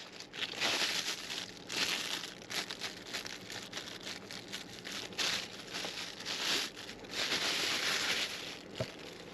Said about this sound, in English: I'm putting it inside a plastic bag.